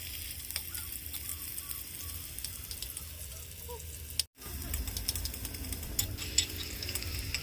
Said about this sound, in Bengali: জিরে আর তেজপাতা দিয়ে একটু নাড়াচাড়া করে এর মধ্যে দিয়ে দেব কুচি করে রাখা পেঁয়াজ।